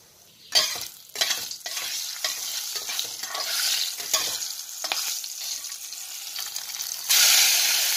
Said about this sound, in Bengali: জিরে, একটু হিং, 3টে লবঙ্গ, একটু দালচিনি, একটা ছোট এলাচ ফাটিয়ে দিচ্ছি।